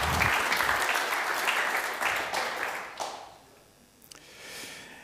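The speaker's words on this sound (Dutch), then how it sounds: "Geef hem nog een geweldig applaus." Audience applause for a speaker at a digital startups event, a burst of clapping from the crowd that fades out over a few seconds, followed by a few scattered claps and room noise.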